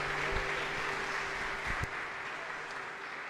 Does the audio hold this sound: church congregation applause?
yes